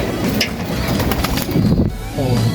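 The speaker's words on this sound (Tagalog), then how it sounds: "May ibon lang tayo dito sa loob." Pigeons coo and flutter inside a loft, with steady close bird calls and wing movement over a busy, continuous background.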